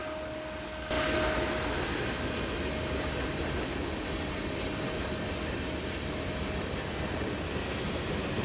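A CN freight train rolls past on the Halton Subdivision, its led by an SD70ACE locomotive, a steady broadband rumble of wheels and cars that swells in abruptly and holds loud and close throughout.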